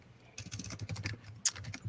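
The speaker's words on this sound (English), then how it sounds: "your keyboard's noisy, Randolph." Rapid clattery typing on a noisy computer keyboard, with dense irregular key clicks and one sharper louder strike near the end, close to the microphone and with no voices.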